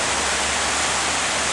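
Water splashes and rushes from a fountain in St. Petersburg by the Baltic, a steady, dense hiss with no pauses, close and loud.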